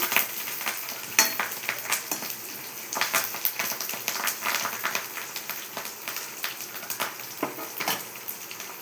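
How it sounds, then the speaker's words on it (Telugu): Curry leaves crackle and sizzle in hot oil in a pan for chicken curry, a dense close frying hiss with sharp popping bursts and occasional stirring clinks, no voices. "తర్వాత కరివేపాకు వేసుకోవాలి."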